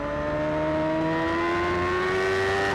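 Race motorcycles at Brands Hatch Indy circuit, their engines holding a loud, steady high-revving whine that climbs slightly in pitch, with no talk.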